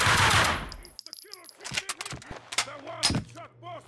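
Video game gunfire from Max Payne 2, a dense burst of loud shots at the start fading out, followed by scattered sharp single bangs and game sound effects mixed with character voices.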